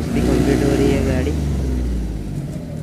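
A car with a clutch switch fault runs at idle with a steady, close engine rumble, with someone talking over it throughout.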